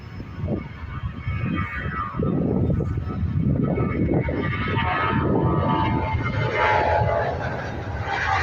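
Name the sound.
Ryanair Boeing 737 taking off from airport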